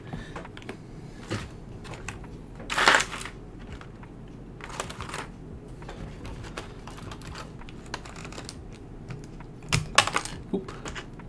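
Typing on a KBD75v2 mechanical keyboard: a steady run of close, crisp keystrokes with irregular rhythm, plus two louder clacking bursts, likely heavier key presses, standing out early and late.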